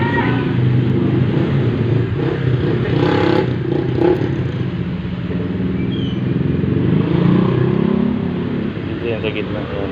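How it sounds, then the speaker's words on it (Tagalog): A running machine with a worn bearing produces a constant noisy clattering rumble, close and steady throughout, with someone talking over it. "So iingay talaga kasi dito dumadaan yung bearing."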